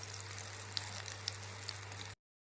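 Ridge gourd peel kebabs fry in oil over a medium flame, a steady, soft sizzle with light crackles and a low hum beneath, cutting off abruptly near the end.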